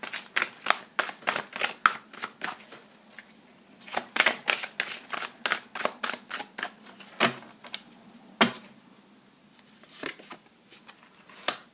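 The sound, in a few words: drawing and handling tarot cards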